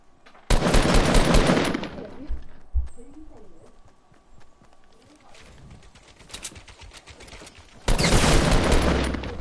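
Rapid automatic gunfire from a first-person shooter video game, loud dense bursts at the start and end with quieter scattered shots and faint game sounds between.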